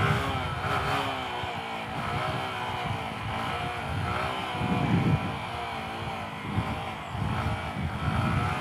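Honda Grom small motorcycle held in a wheelie on a lot, its engine droning steadily and loudly with small rises and dips in revs throughout.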